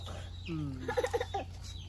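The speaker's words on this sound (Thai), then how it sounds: "จับไก่หน่อย" A chicken gives a short burst of clucks close by in a quiet farmyard, a few quick rising notes over a low steady hum, with a faint voice nearby.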